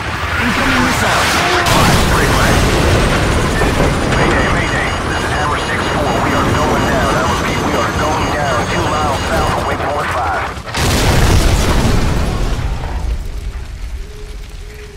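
A missile strike in the military shooter game Call of Duty 4: Modern Warfare, a loud, dense roar of blast and rumble filling the scene, cutting off briefly before a second heavy burst of debris and low booms.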